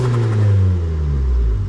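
A tuned Stage 1 Alfa Romeo MiTo engine gets a brief blip of the throttle, a loud, close, deep rumbling rev that swells and holds steady without any talking.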